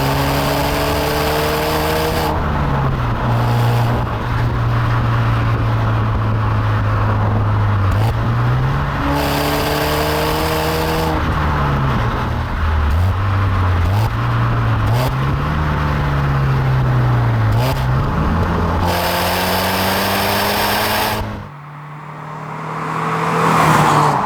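BMW Z4 roadster on an open road, its engine droning loud and close as revs climb in long pulls, dropping briefly and stepping back up with each downshift, then cutting off near the end.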